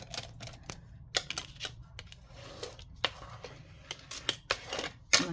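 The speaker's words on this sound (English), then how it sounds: "I'm just going to fold this page in half here like that." A page of vintage Christmas paper ephemera folded in half: quiet, sharp crinkles and crisp creasing snaps scattered irregularly across a near-silent background.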